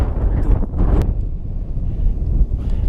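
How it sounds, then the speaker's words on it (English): Gusting wind on a high volcano at nearly 5,400 metres roars and thumps against the microphone, loud and close, with a sharp buffet near the start and steady blustering after. "it's so windy, really straight"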